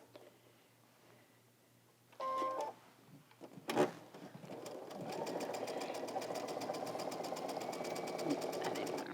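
Sewing machine stitching a simple quarter-inch quilt seam down a center piece, a steady fast mechanical whirring hum that builds and runs continuously after a few short clicks and clunks.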